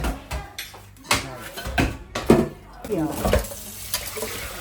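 Mutton cut into small pieces rinsed in water, with splashing and handling noises in bursts of a few seconds, fairly close.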